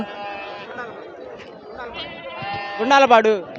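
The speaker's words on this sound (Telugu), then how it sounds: "అన్నా నీయేనన్న మేకపోతులు ఇక్కడ కనపడుతున్నాయి కదా, ఇది మేకపోతులు." A few loud, wavering bleats from young male goats near the end, rising over a steady murmur of voices and chatter at a goat and sheep market in Nallapadu, Guntur.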